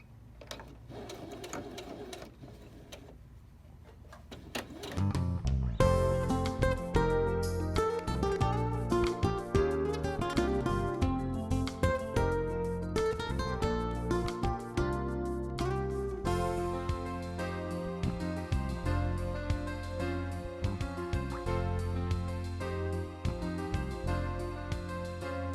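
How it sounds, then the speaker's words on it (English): A sewing machine stitches along the edge of a quilt block for a reversible T-shirt quilt, starting after a quiet few seconds and then running in steady, close, rapid mechanical bursts with brief pauses between runs. "Now let's go to the sewing machine"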